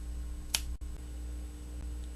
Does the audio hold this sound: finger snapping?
yes